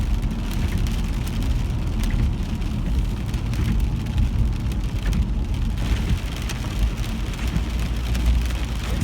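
Heavy rain pours down during a severe autumn thunderstorm in Camarillo, California, a loud, dense and steady roar of drops on surfaces that fills the whole stretch without letup and with no talking.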